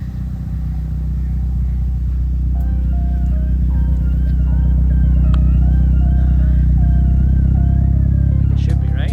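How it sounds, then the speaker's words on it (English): Mitsubishi Evo 9 with its 4G engine idling smoothly after a cylinder head install, a steady, loud, low rumble that holds even throughout. "Now she sounds like a normal 4G."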